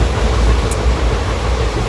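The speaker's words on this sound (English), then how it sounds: "Now we got on the train, and it is a journey of 24 hours." A train rolling along its rails on a 24-hour passenger journey, heard from inside as a loud, steady rumble with a brief high squeal partway through.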